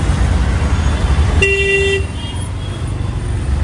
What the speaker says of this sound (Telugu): చూడండి ట్రాఫిక్.